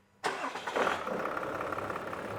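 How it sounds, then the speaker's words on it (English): A Toyota Land Cruiser 300 Series diesel engine cranks and fires after a pre-fuel filter kit install, then settles into a steady, even idle, heard close up. "the engine's started. It all sounds perfectly normal like it did before we put the fuel kit in there."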